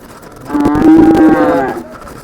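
A single deep, drawn-out moo from a bull at the Sangola cattle market, close and loud, swelling then fading over about two seconds.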